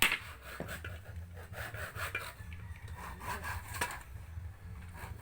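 Steady back-and-forth rasp of a hand saw cutting through wood, strokes repeating in a regular rhythm, close and fairly quiet.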